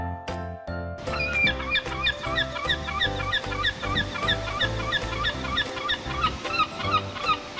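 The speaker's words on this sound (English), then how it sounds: "Seagull." Seagull calls: repeated loud, harsh, honking cries in a quick irregular series, close and clear with no talk.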